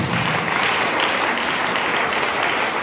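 Audience applause at a French-language talk, a dense, loud, steady patter of many hands clapping together without pause.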